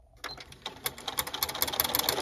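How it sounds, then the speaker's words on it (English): A sewing machine stitches a square seam around absorbent pee pad fabric, close by, with a rapid, steady mechanical chatter that builds after a short quiet start. "So you're gonna sew all the way around just like I'm doing."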